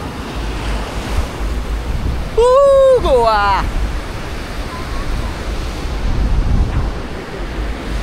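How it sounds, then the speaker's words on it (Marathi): Surf at high tide rolls steadily onto crowded Anjuna Beach in Goa on a weekend. The broad wash of waves and wind fills the whole stretch, with a short voice speaking briefly over it near the middle. "फुल समुद्राला भरती आहे एकदम"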